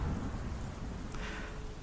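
Steady, dense rain falls outdoors at night as a constant soft hiss with low rumbling underneath, fairly faint and even throughout, with no voices.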